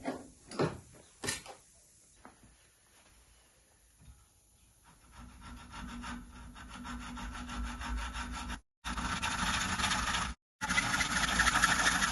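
A hand saw cuts through the metal side stand of a Honda Super Cub C125 in a workshop, starting with a few scattered knocks and scrapes, then settling into steady, close rasping strokes broken by two brief silences.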